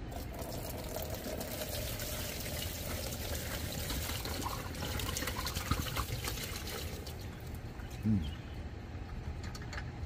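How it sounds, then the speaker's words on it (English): Vinegar poured out of the gas tank of a 5HP Briggs & Stratton engine during restoration, a steady continuous splashing trickle of liquid with bits of rust, fairly close and unbroken for the whole stretch. "we're gonna go ahead and pour the vinegar out of the gas tank"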